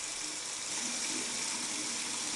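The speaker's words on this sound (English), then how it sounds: "Rinse hands under running water." Tap water runs steadily over hands being rinsed at a sink, a continuous broadband gush of moderate loudness with no voices.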